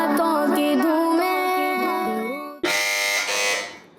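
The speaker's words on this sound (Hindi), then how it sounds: "इस बार सबसे पहले बज़र बजाई है टीम ए ने" A sustained electronic buzzer tone rings out on a children's quiz show as a team buzzes in first, loud and steady for several seconds before a brighter, harsher burst takes over and then fades out.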